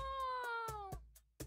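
A cat meows in a long, drawn-out tonal cry close by, followed by a few softer short thumps or clicks, with no talking.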